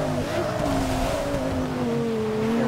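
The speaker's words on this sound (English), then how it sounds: "Gee, the Hummer spun out." A Hummer spins out on a wet track in the Forza Motorsport 6 racing game, its engine droning steadily at close range and tires squealing throughout, with faint voice underneath.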